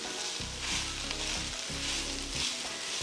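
Fresh garden kale sautés in a pan, giving a loud, continuous close sizzle with faint stirring beneath it and no speech.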